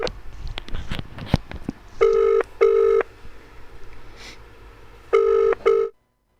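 An outgoing telephone call starts with a few quick dialing clicks and tones, then a UK-style ringback tone sounds as two double rings, each a pair of short even buzzes with a pause between pairs, before the line cuts off.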